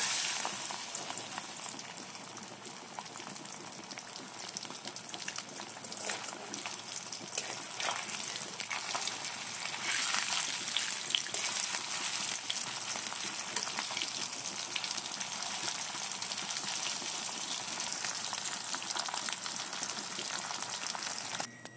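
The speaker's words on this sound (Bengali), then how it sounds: "এবার কড়াইতে তেল দিয়ে এর মধ্যে মাছগুলোকে অল্প আঁচে ভেজে নিতে হবে" Stinging catfish fry over low heat in oil in a wok, producing a continuous bright crackling sizzle that holds steady and fairly loud throughout, with no one talking.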